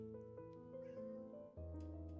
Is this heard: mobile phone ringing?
no